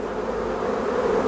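Honeybees buzz steadily and close on a hive frame during an inspection, a dense continuous hum with no talking.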